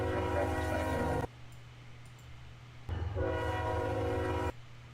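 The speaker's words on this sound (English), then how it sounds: "that train horn is probably really loud for you guys" Loud blasts of a passing train's horn, two long sustained tones separated by a quieter gap with rumbling rail noise underneath, close and dominant.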